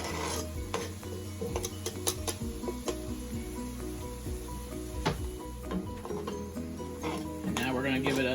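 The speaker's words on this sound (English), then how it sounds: "And now we're going to give it another little stir" Chicken noodle soup with carrots being stirred in a pot, a utensil scraping and clinking against the pot in irregular strokes while the soup simmers; a voice talks over much of it.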